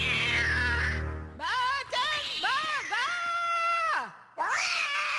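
A cartoon cat yowls in long, wavering, rising-and-falling cries, several drawn-out wails in a row, loud and close with brief gaps between them.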